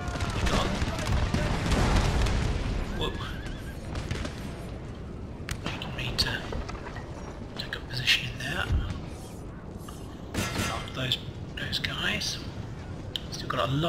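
Battlefield gunfire in Napoleon: Total War, crackling musket-like volleys dense at first, then scattered shots and rumble under quiet commentary.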